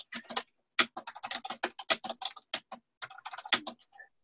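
Someone types on a computer keyboard during an online meeting, giving rapid, close, crisp key clicks in uneven bursts with short gaps, alone and with no voices.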